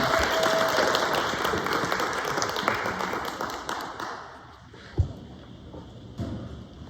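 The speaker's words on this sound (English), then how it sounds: "big round of applause for Daniel" Applause from the audience at a 1 Million Cups Indianapolis startup presentation, dense clapping that starts fairly loud, thins out and fades after a few seconds, leaving scattered claps and light room noise.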